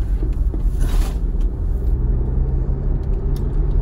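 A truck on the road gives off a steady low engine rumble and road noise, close and continuous, with a brief brighter hiss partway through.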